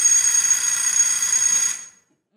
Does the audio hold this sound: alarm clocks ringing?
yes